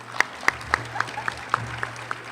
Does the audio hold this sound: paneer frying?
no